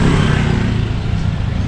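A big motorcycle's engine runs close by, producing a loud, steady, low rumble that holds throughout without a clear rev.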